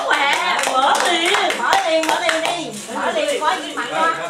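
Audience clapping at a gift-giving party, quick hand claps mixed under loud overlapping chatter and children's voices, close and busy throughout.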